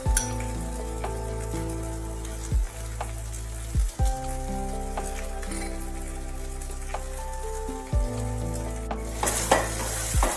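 Okra sizzles steadily in a hot pan with ground spices while a utensil scrapes and stirs, with several clear clinks against the pan.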